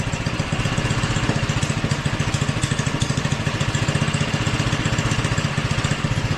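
A Doodle Bug mini bike engine idles steadily and close by, with a fast, even putter that keeps going without a break and no voices.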